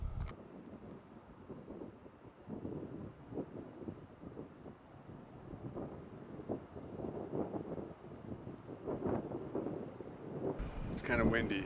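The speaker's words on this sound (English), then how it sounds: "It's kind of windy, so I don't know how well you're going to be able to hear this" Gusty wind buffets an outdoor microphone on a Montana archery hunt, a steady low rumble with swelling surges throughout and a louder burst at the end.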